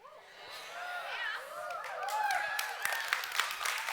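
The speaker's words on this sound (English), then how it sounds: "Yeah, you're cheering for that." An audience at a live event cheering and whooping, many voices rising in overlapping excited shouts that build in loudness over a few seconds.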